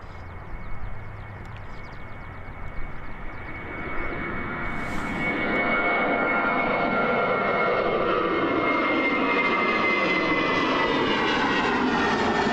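An Airbus A320 takes off at Christchurch Airport in thick fog, its engine roar building from a moderate rumble into a loud, steady, broadband roar that holds for the rest of the run.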